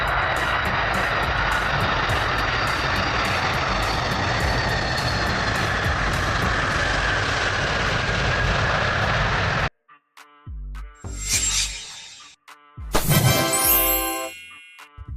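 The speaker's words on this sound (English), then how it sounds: "This is the Airbus Beluga XL, unveiled in 2018 in Europe" Airbus Beluga XL jet aircraft, unveiled in 2018, with a steady loud engine roar for about ten seconds before it cuts off, followed by scattered beeps and tonal electronic sounds.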